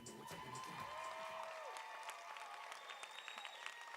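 Sustained audience applause with some cheering at the 18th Annual Gentlemen of Distinction live event, a dense wash of clapping heard from within the crowd, fairly faint overall.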